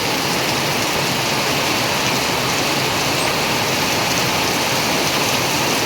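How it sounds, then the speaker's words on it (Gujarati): Heavy monsoon rain pours down in Bhabhar in a dense, unbroken roar, loud and constant from start to finish with nothing else audible. "ધોધમાર એલમ છેલ વરસાદ ચાલુ છે"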